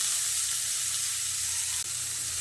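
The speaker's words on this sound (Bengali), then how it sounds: "ফ্রাইয়ের মধ্যে যে বাকি তেলটুকু রয়েছে তার মধ্যে আমি দিয়ে দিচ্ছি হাফ চামচ মতো গোটা জিরে, আর দিয়ে দিচ্ছি একটা ছোট সাইজের কুচনো পেঁয়াজ" Cumin seeds and chopped onion sizzling in leftover frying oil, a loud, steady, close hiss that runs throughout with a brief dip near the end, no talk.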